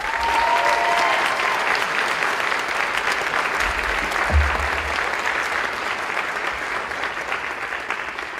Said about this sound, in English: And one final round of applause.